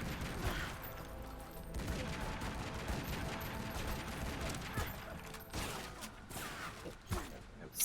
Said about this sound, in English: I can shoot these people.